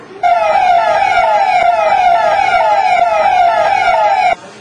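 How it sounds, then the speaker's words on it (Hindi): A police vehicle's wailing siren sweeps up and down repeatedly on a city street, loud and close, with traffic rumble underneath, cutting off abruptly near the end. "शहर की सड़कों पर अनेक वाहन सायरन बजाते हुए गुजर रहे थे।"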